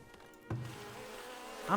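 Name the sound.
bees buzzing in a video game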